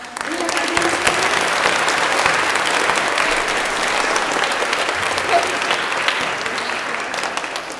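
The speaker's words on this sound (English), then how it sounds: "would you stand up so we can give you a round of applause?" Sustained, dense applause from a school choir winter concert audience for a staff member fills the hall evenly for several seconds, a broad crowd of clapping hands heard from within the audience.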